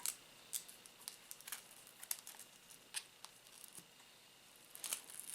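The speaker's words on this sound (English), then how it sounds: "Flip these pieces of tape up." Small pieces of adhesive tape being flipped up inside a Moto Edge 2021 phone during a screen and battery repair, a series of faint, sharp close-up ticks and light crinkles scattered irregularly over quiet background.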